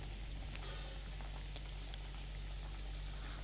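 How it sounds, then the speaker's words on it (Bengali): Rice rasgulla balls boil in sugar syrup in a pot, giving a soft, continuous bubbling and popping over a low steady hum from a nearby burner. "দেখুন কত সুন্দর ফুটছে"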